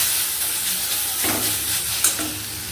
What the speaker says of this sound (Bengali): আমটা ভাজা ভাজা হয়ে গেছে আমাদের জল ঢালতে হবে